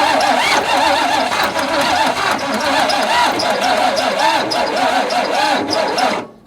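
A long-abandoned 1961 Ford Falcon engine cranks over continuously on a weak battery, a rapid rhythmic churning that briefly catches and fires before cutting off abruptly at the end.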